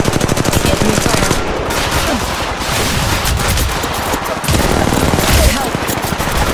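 Rapid automatic gunfire in the mobile battle royale game Apex Legends Mobile rattles out in dense, loud bursts that continue almost nonstop, with short pauses and faint in-game voice lines mixed in.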